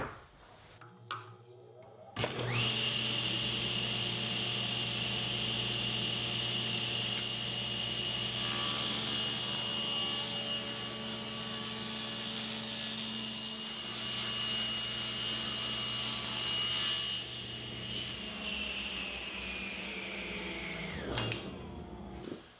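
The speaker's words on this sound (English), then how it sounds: "I'll set the angle of the saw at 15 degrees." A table saw tilted to 15 degrees cuts tapered molding for flat panels: the motor spins up, then holds a steady loud whine through a long cut of about twenty seconds before winding down, with no talking.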